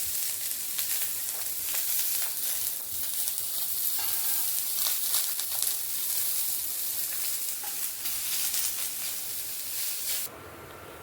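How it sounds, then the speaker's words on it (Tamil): Sliced big onions sautéing in a seasoned iron pan make a continuous loud frying hiss with crackling pops and scraping stirs, dropping in level just before the end, with no talking. "இப்போ லைட்டாக பெரிய வெங்காயம் போட்டு கொஞ்சம் வதக்கலாம்"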